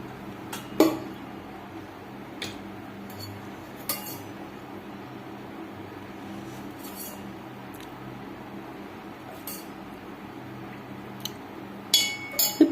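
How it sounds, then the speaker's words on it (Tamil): A vada kadai pan set on a stove, with a few sharp metallic clinks and knocks scattered over a quiet kitchen background, including a cluster near the end. "அடுப்பில் வடை சட்டி வச்சாச்சு எண்ணெய் ஊற்றிக்கலாம்"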